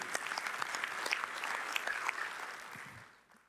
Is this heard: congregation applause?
yes